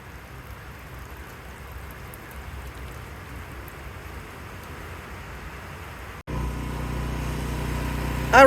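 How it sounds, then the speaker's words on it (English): Rain falling outdoors at a sawmill, a steady soft hiss of drops that cuts out abruptly, then returns louder and fuller with a coarser patter for the last couple of seconds. "It's starting to rain, so I'm just going to probably clean up here for today"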